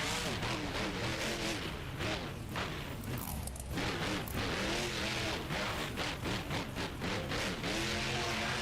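Monster truck engines roar and rev continuously in a BeamNG Monster Jam stadium freestyle run, with tires skidding and bursts of impacts from big air over cars, loud and busy under commentator talk.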